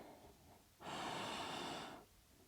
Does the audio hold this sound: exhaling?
yes